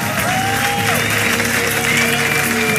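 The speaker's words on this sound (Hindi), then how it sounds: "जब वो अपना स्टैंड अप कॉमेडी शो करता, लोग तालियों से उसकी हौसला अफजाई करते।" Applause from the audience at a stand-up comedy show: steady, dense clapping from a crowd that runs through the whole moment, with faint tonal music beneath it.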